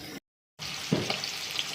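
Turmeric and chili powder fry and sizzle in a hot pan, with a steady hiss broken by a short silence, then soft scraping and stirring up close.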